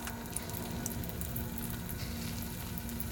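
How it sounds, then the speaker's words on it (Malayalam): Potato cheese bonda frying in a kadai of hot oil, a soft, even bubbling sizzle that stays constant and fairly quiet from start to finish. "പൊരിച്ചെടുക്കാം"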